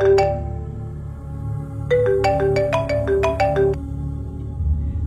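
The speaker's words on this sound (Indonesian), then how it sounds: "dia mendengar suara handphone berbunyi" A mobile phone ringtone plays a bright melodic pattern of quick tones, loud and close, after a single opening note, over a low steady background hum.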